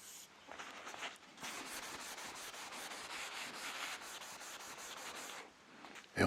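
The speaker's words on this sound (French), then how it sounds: "Donc le ponçage, c'est vraiment ça, c'est éliminer tout risque de petits défauts, parce que tout petit défaut va se voir à la finition." Wood sanded by hand with 1000-grit paper while carving a guitar neck, a soft, fairly quiet back-and-forth rubbing in even strokes, close up with no talking.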